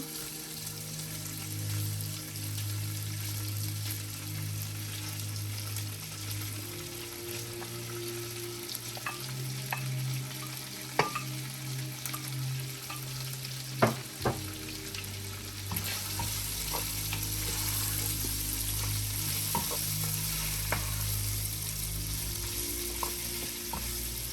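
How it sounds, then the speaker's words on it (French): Boneless chicken pieces fry in a pan for Cantonese fried rice, giving a steady close sizzle while occasional utensil clicks mark the stirring. No voices are heard. "je vais prendre mon poulet qui était déjà désossé, que j'ai coupé en morceaux. Donc, je vais rajouter ça."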